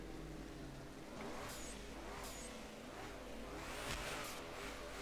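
A BMW engine revs in the Drift21 racing game, with a steady engine drone and the turbo dump valve whirring and hissing between throttle bursts, alone without talk.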